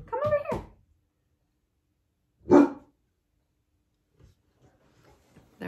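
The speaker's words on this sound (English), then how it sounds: "So I apologize for that barking because I'm not going to edit this video." Dogs bark at a car pulling up: a short burst of barks, then a single loud bark a couple of seconds later, followed by faint scattered sounds and near silence.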